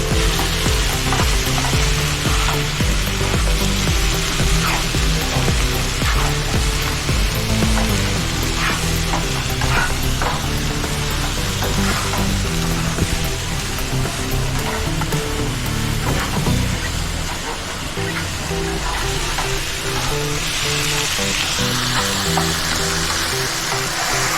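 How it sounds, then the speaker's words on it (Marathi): Prawn biryani masala frying and being stirred in a pan, a loud, continuous sizzle with scraping stir strokes throughout, no voices. "मस्त परतून घ्यायचं वाजून घ्यायचं"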